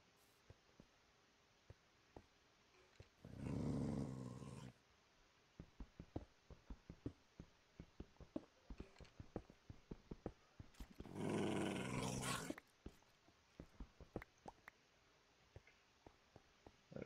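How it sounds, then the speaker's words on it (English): Wolves in the video game Minecraft growl in two loud, sustained bursts, separated by quieter stretches of scattered clicking and tapping game sounds. "I hear dogs."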